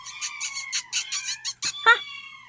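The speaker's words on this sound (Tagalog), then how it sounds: "Agmimiyaw dagiti pusa" A cat in a comedy drama meows in a quick run of short, rhythmic, bright calls, ending with a louder, sharper cry, close and clear against near silence.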